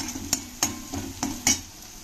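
Sliced onions sautéed in a pan for a home-cooked lunch, with a soft steady sizzle broken by five sharp scraping stirs at a fairly even pace, close by and with no talking.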